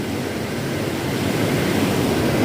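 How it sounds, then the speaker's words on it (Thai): A steady, dense wash of rain mixed with rough sea surf at Pak Phanang, Nakhon Si Thammarat, continuous and fairly loud with no voices. "ตอนนี้ก็ฝนตกลงปล่อย ๆนะครับเห็นว่าคลื่นก็ค่อนข้างจะแรงนะครับ"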